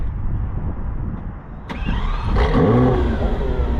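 Lamborghini Aventador SVJ starting up outdoors: a sharp crank at about the midpoint, then a loud engine firing and rising into a rev over steady low background rumble, no talking.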